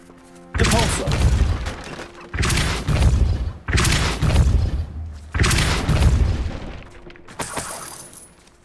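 Depulso spells fire repeatedly in Hogwarts Legacy, four loud booming blasts of about a second each with rumbling, crashing tails, followed by a lighter shimmering burst.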